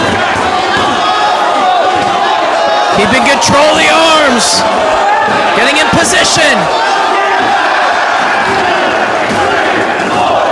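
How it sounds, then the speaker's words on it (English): A loud, roaring wrestling crowd at a Ring of Honor match, chanting and cheering continuously in a packed arena while a commentator talks over the din. "Listen to this crowd."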